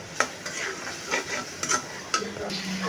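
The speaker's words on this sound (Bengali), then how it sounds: "এখানে আমি হলুদ মরিচ সব দিয়ে কষায়" Turmeric and chilli being stirred and sautéed for a dried fish and sweet pumpkin curry: a soft steady sizzle broken by several quick spatula scrapes against the pan, close and moderately loud.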